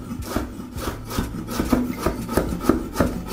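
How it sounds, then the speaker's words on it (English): A knife chops yellow and green peppers into thin strips on a wooden cutting board: quick, evenly spaced, close taps, roughly a dozen in a brisk rhythm, with no talking. "Cut into thin strips and you want to finely chop it in."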